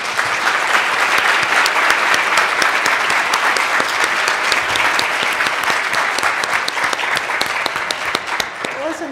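Audience applauding panelists at a morning panel event, loud sustained clapping from a crowd that stays strong and steady throughout before easing slightly at the end.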